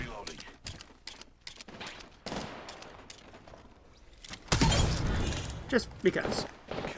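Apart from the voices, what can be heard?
gunfire from the player's gun in Apex Legends video game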